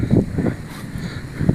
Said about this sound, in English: Still snowing and blowing.